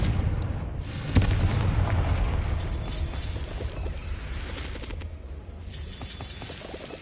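Fire-spell explosions in the video game Hogwarts Legacy burst out in a series of loud booms and crackling blasts, one sharp hit standing out amid a continuous rumbling barrage.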